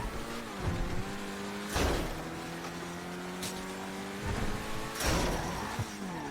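A supercar in Grand Theft Auto 5 drives along with a steady, tonal engine whine that rises and falls with gear changes, and several louder whooshing surges as it speeds past things.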